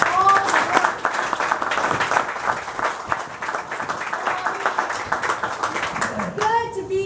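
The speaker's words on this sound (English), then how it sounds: "everybody give a round of applause for all the work" A crowd at an outdoor political campaign event applauds its sponsors, a sustained wash of clapping under scattered voices and a child's chatter, fading at the end as someone starts to speak.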